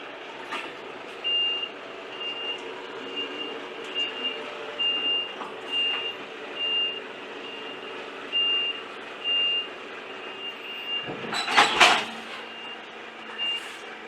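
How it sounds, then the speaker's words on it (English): An HGV lorry slowly reverses into an awkward spot, its reversing alarm beeping steadily and repeatedly over the idling diesel engine, with a loud hiss of air brakes near the end. "Bit of an awkward angle here to try and get the truck in, but he's doing it."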